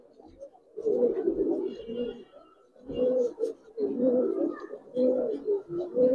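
Giribaz pigeons coo in low, rolling bursts, several overlapping calls near and fairly loud with brief pauses between.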